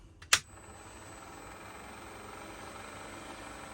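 A Ryobi R18TR-0 cordless rotary tool clicks on and runs at its lowest speed, giving a steady, fairly quiet motor whir with a faint high whine, close by and alone after the sharp switch click.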